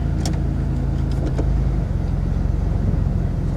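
A 2002 Ford Thunderbird idles close by as it is shifted into gear, a low steady engine hum with a brief clunk and a shift in tone partway through, plus a few faint clicks.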